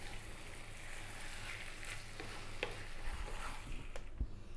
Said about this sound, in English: for about 3 minutes I'm just going to work the sauce in, on and around the pasta